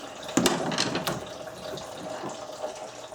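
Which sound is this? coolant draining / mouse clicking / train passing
coolant draining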